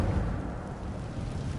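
Incendio fire spell cast in Hogwarts Legacy, a steady roaring whoosh of flame with a low rumbling body, continuous and fairly loud for under two seconds with no talk.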